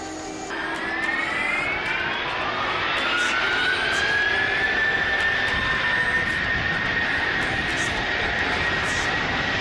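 Jet airliner of Indonesia 717 on its takeoff roll, a loud, steady engine roar with a rising whine building and sustaining throughout, continuous and close.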